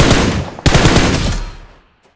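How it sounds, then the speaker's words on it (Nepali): A loud, close burst of rapid automatic gunfire from the video game PUBG Mobile rattles continuously, briefly breaks, then resumes and fades to near silence. "केबाट हान्यो यार"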